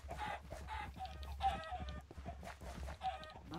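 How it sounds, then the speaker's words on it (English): Chickens clucking in the Minecraft video game, a busy run of short game-sound clucks repeating over about four seconds alongside a low steady background hum, with no talking. "Wow, two chickens, two cows."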